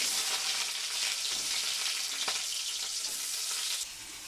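Two large chopped onions fry in hot oil with fenugreek, giving a loud, steady sizzle that stays close and constant, with a faint stir and a slight drop in intensity near the end.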